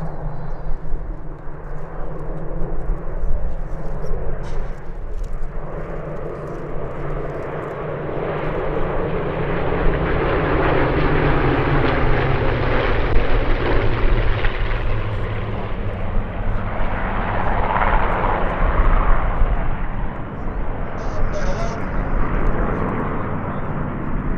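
Several Spitfires flying in formation pass overhead at an airshow, a loud continuous piston-engine roar that swells and fades slowly across the whole stretch.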